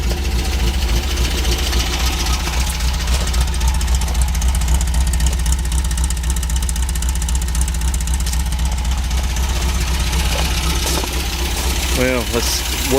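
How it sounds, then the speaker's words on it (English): A car engine with a red dash warning light but good oil pressure runs with a steady, close, low hum, then lifts briefly near the end in a short rev. "Rev it up just a little."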